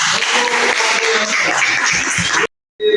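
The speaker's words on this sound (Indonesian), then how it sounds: "Oke, tepuk tangan." Classroom students applaud after a group presentation in a lesson, a loud burst of many hands clapping for over two seconds, cutting off abruptly into brief silence before another sound starts.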